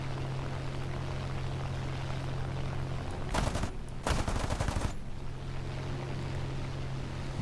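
In the War Thunder video game, an aircraft's .50 cal machine guns and 20 mm cannon fire two short, sharp bursts of rapid shots over a constant engine drone.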